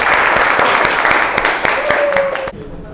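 A classroom of students claps loudly and steadily for a student group, close and dense, with voices mixed in, before the applause cuts off abruptly near the end.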